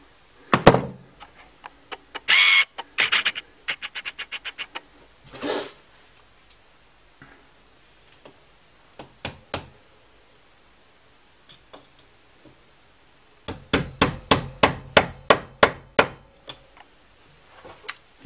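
A hammer strikes a nail to drive out a hollow metal guide pin from a switchblade key, giving bursts of sharp metallic taps, some in quick rapid series, separated by pauses and a few lone knocks.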